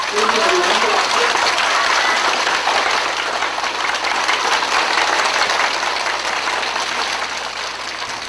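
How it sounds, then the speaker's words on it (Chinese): A large audience at a gathering of Falun Gong practitioners breaks into a long, dense burst of applause to welcome Li Hongzhi, a steady roar of clapping that fills the hall from start to finish and fades slightly at the end. "现在让我们以热烈的掌声欢迎我们中国的李洪志老师"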